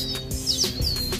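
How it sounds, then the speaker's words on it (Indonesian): A baby prinia (perenjak) chirps in a series of short, high, sweeping notes, close and clear over a low background hum. "perenjak ini kecil, burungnya simple, lucu, imut"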